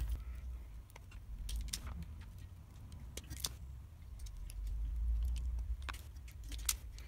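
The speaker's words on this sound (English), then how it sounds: "First thing we want to do is cut these little spade connectors off." Small spade connectors being snipped off wires while wiring water tanks in a Mercedes Sprinter campervan conversion, heard as a series of sharp metallic clicks and clinks over a low rumbling background.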